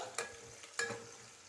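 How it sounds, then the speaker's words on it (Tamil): Onions sautéing for chicken biryani, browning in a pan with two brief scraping stir strokes over a faint steady sizzle, no talk. "வெங்காயம் நல்லா ப்ரௌன் கலராக வதங்கட்டும்"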